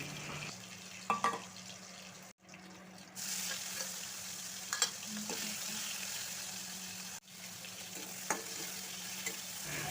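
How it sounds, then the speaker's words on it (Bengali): Prawns fry in hot oil with a soft, constant sizzle, punctuated by occasional scrapes and clicks as they are stirred and turned in the pan, fairly quiet throughout. "এপাশ ওপাশ নেড়ে চিংড়ি মাছটা ভালো করে ভেজে নিচ্ছি।"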